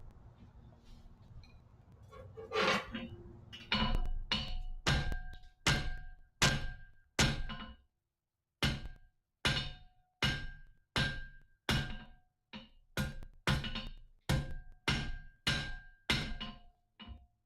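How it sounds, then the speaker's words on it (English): Loud, ringing hammer blows strike metal in a steady rhythm, with a short pause midway, each impact sharp with a metallic ring; faint talk early on. "That is much louder now, the hammering, just in general."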